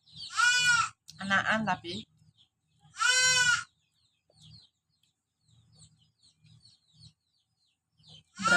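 A goat bleats loudly in several long, wavering cries in the first few seconds, with a pause between them. Quieter shuffling and faint animal sounds follow, and a brief bleat returns at the end. A few words are spoken.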